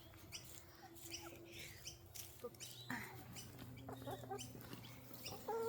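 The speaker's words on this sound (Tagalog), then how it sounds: "Daming chicken." Chickens clucking and chirping at feeding time, a busy flock of soft, scattered bird calls at close range, faint overall, with a person's voice in the background.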